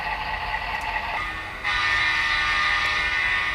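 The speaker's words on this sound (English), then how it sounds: "we have a train coming out here that will be a freight" A model freight train runs on a model railroad layout in an indoor club setting, giving a steady mechanical hum and whir that grows louder and brighter partway through as it draws near.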